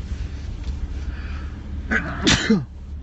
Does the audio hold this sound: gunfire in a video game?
no